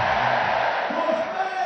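Spectators at a London 2012 Olympic women's beach volleyball match between the Netherlands and Spain cheer and shout in bursts, a dense crowd roar with voices rising over it.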